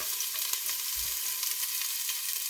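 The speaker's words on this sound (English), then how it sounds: "Let's get these onions cooked off." Onions sear in a hot Dutch oven with a steady, dense sizzle and crackle, close and continuous, with a soft stir or scrape partway through.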